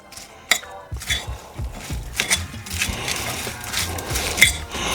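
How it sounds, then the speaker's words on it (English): Lettuce being tossed with dressing in a bowl for a Pittsburgh salad, with irregular clinks and scrapes of utensils against the dish and soft rustling, close by and without talk. "I'm just gonna start to mix it. Mix my lettuce in."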